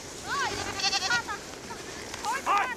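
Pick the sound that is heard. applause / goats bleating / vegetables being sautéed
goats bleating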